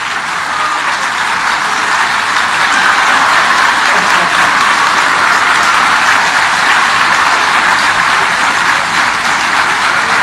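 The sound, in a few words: audience applause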